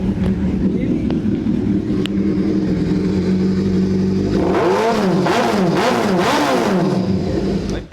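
A Kawasaki Z900 motorcycle with an Arrow full-system exhaust idles with a deep burbling note, then revs sharply several times in quick rising and falling bursts, loud and close.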